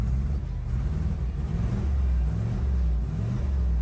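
A combine's engine rumbles loud and close with a low uneven throb, its rough running near idle holding steady throughout without any talking.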